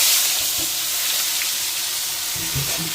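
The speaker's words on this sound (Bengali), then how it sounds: "ওই তেলের মধ্যে আমি পেঁয়াজটা দিয়ে দিলাম" Continuous sizzling of onion frying in hot oil, a dense crackling hiss throughout with a few soft clinks and stirring sounds.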